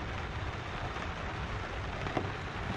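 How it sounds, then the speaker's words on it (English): Steady, dense storm rain patters continuously on a surface at a forest campsite in Cebu, Philippines, a broad hiss with no voices and one brief louder tap near the end. "it's still raining outside"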